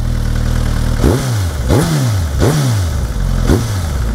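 A 2022 Suzuki GSX-S1000GT's loud 999cc inline-four engine idles and is revved four times, each blip rising sharply and falling back, with an uneven rhythm, close to the microphone.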